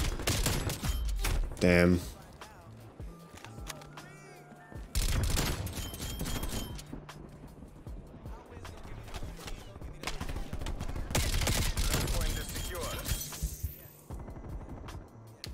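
Black Ops 2 gunfire comes in repeated bursts of rapid automatic shots with sharp impacts, loud and close. Someone speaks briefly in between.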